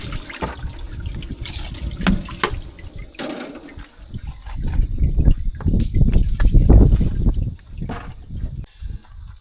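Engine oil draining from a Volvo VNL truck with a Cummins ISX into an oil pan, a steady liquid pour and splashing that swells and dips over several seconds, close by with no talk.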